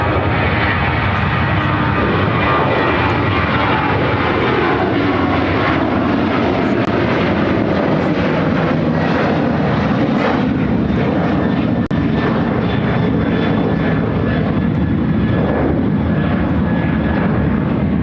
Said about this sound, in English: Airlines 2341 taking off to Houston Intercontinental on a 737-800